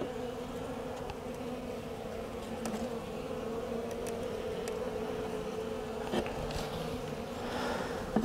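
A swarm of honeybees clustered in a hive box hums steadily and close, a dense continuous buzz with occasional light knocks and scrapes from frames being handled, and no talking.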